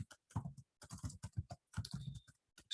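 Quick, crisp keystrokes patter in uneven bursts on a computer keyboard while Python code is typed, close and fairly quiet with short pauses between runs of clicks.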